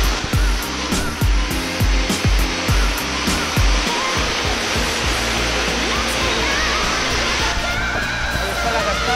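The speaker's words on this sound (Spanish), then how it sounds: "Ahí está la cascada, las cataratas del Niágara." Niagara Falls roars as a steady, loud rush of falling water, with some low thumping handling noise early on.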